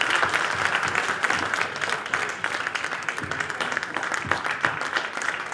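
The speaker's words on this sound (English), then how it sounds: "A big round of applause." An audience applauds a $1 million donation to a Hindu temple heritage center at a cultural event, a dense, loud burst of clapping that carries on steadily with faint crowd murmur beneath.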